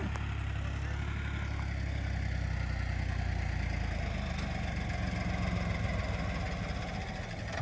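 A farm tractor engine running in second gear, a steady low rumbling drone with constant vibration that holds nearly unchanged throughout, with no talking over it.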